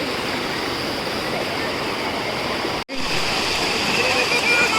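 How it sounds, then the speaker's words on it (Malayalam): Rushing river water at a trip spot near Thattekad, Ernakulam, where many people are bathing and splashing; a steady loud wash of flowing water fills the scene, broken by one brief dropout near the end. "കുറെ ആൾക്കാർ കുളിക്കുന്നുണ്ട്"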